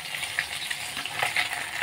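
Fish pieces fry in hot oil in a pan, giving a steady close sizzle with crackling pops, and no one speaks.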